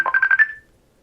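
A phone rings in short repeated electronic bursts, five quick pulses close together and fairly loud, then it stops abruptly.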